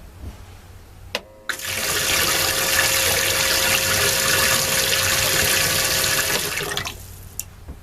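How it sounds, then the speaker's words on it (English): A high-speed water pickup pump on a river boat kicks on after a click, producing a steady loud rushing gush of pumped river water that runs for several seconds and then cuts off abruptly. "So let's kick the pumps on and see what happens."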